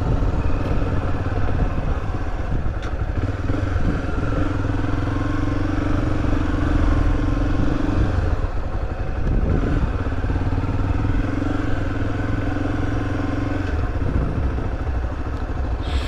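A 2013 Honda XRE300 motorcycle rides slowly over soft ground with its engine droning steadily at low revs. The bike is close and moderately loud and clatters now and then, with no talk.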